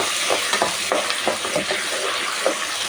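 Rice frying in butter and ghee in a pan, crackling and sizzling continuously while a spoon scrapes and stirs in short irregular strokes, close and fairly quiet.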